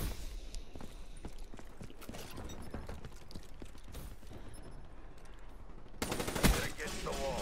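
Gunfire in a Black Ops III multiplayer match: faint, scattered shots and rattling bursts over a busy low rumble, then a sharper, louder burst near the end.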